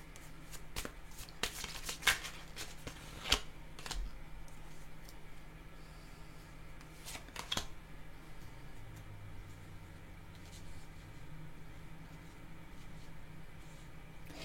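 Tarot cards being shuffled by hand: a dry, crisp riffling that comes in bursts and sharp flicks early on, then settles into a softer, steady shuffling rustle, close and alone with no talk.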